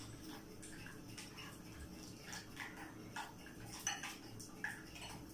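Cornstarch mixture being stirred in a pot for Filipino maja blanca, giving faint, steady scraping and sloshing with a few light clinks of the utensil against the pot's side, no voices.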